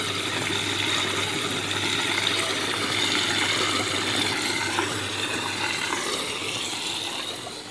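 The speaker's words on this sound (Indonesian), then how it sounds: "ada gelembung-gelembung udara" A constant, dense rush of air bubbling through water in a tank, driven by a T-pipe venturi, runs steady and close throughout with no talk.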